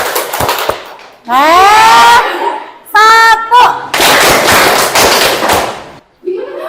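A class of students doing a rhythmic clapping ice-breaker led by a teacher, sharp bursts of group claps alternating with loud chanted group voices, close and energetic.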